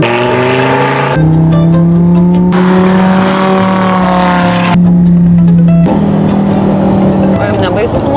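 A Lamborghini V10 engine hums and revs during a test drive, heard from inside the car with pitch steps as the engine shifts, under people talking in the cabin.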